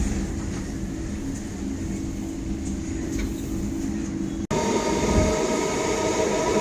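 Train noise inside Dum Dum railway junction: a steady rumbling rail roar throughout, with a brief dropout partway and louder, brighter clattering and humming afterward, no talk.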